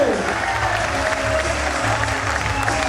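Applause welcoming a teacher at a coaching class meetup in Patna, a dense crowd clapping steadily and loudly throughout, with some cheering mixed in.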